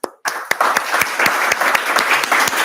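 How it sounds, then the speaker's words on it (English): Audience giving a round of applause at the close of a talk, bursting in after a brief silence as dense, loud clapping with a few sharper individual claps, no voices over it. "So how about a round of applause?"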